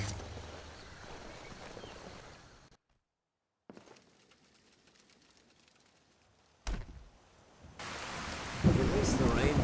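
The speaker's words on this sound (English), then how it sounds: "At least the rain provides some cover." Rain falls steadily in the Skyrim video game, with low rumbling thunder near the start, a brief silent gap, then softer rainfall before it swells to a loud downpour at the end.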